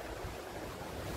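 Water flowing down from below in Upper Mustang, Nepal, a steady broadband rush like a mountain stream, continuous and fairly faint with some wind noise, no talk.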